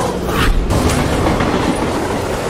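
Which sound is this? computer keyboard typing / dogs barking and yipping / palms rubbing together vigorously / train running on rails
train running on rails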